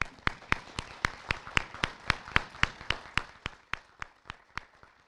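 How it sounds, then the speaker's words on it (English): Hands clap at an even steady pace at a junior high honor society induction ceremony, about twenty sharp claps in a row, more like one clapper or a small group than a full crowd, slowly fading. "let's give everyone a round of applause here"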